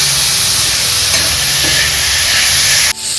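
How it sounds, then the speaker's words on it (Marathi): Onion and masala roast in a pan for a restaurant-style paneer curry, giving a loud, continuous sizzle and hiss with faint stirring scrapes that cut off abruptly near the end; no one talks. "त्याला चार ते पाच मिनटं चांगलं भाजून घेऊ आपण"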